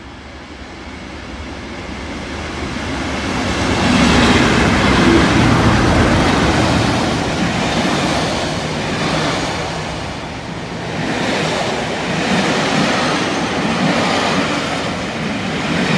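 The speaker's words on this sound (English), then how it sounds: "I'd come by this morning at St Thomas to record the class 37s coming back through." Two class 37 diesel locomotives, numbers 37667 and 37688, double-heading a private charter train through St Thomas in Devon, rumble steadily past at close range with heavy engine roar and rolling wheel noise swelling and easing over sixteen seconds.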